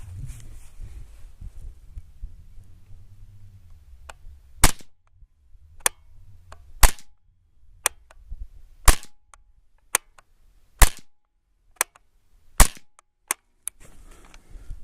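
Suppressed rifle shots fitted with a Griffin Armament Optimus Micro suppressor, about a dozen sharp cracks spaced roughly a second apart at a range, each loud and abrupt against a quiet background.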